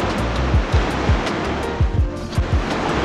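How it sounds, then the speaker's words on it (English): Ocean surf rolling and breaking on a shore at night, a steady broadband wash with repeated low swells building and crashing, close and fairly loud with some wind on the microphone. "You can see the reflection of the moonlight on the waves."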